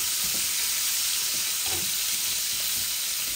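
Pieces of fish fry in oil in a pan on a gas stove, giving a steady, fairly quiet sizzle with occasional soft bubbling, with no voices.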